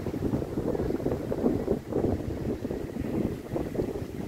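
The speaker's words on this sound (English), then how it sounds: "Got a bit of a strong sea breeze, so the water's a little bit choppy." Steady gusting sea breeze buffets the microphone on a beach in South Pattaya, Thailand, with a low, rumbling roar that rises and falls, no voices heard.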